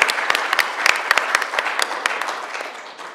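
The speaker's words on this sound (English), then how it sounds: "can we clap?" Audience applause at a financial inclusion panel discussion, a steady patter of many hands clapping close by that tapers off gradually toward the end, with no talking over it.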